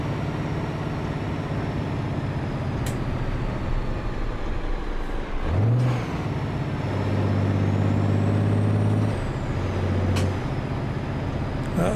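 Heavy truck in the American Truck Simulator game braking, with a steady engine drone, a sharp air-brake hiss near the midpoint, then shifting engine tones and a second brief hiss near the end.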